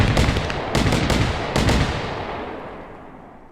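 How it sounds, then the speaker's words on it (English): Fireworks burst in a New Year's Eve video game, with several loud, close, crackling blasts in quick succession during the first half. A long, fading rumble follows, and no voices are heard. "I didn't know fireworks bounced."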